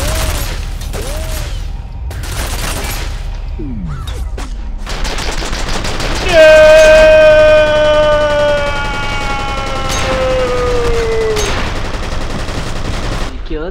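Rapid bursts of submachine gun fire in the shooter game F.E.A.R., loud clattering volleys repeated over several seconds, mixed with a wailing siren-like tone and someone talking between bursts.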